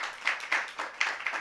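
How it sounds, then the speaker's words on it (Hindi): An audience at a religious discourse in Ayodhya claps in several short rhythmic bursts of applause, fairly loud and close, with no talking over them. "जरा उनके लिए ताली बजा दीजिएगा"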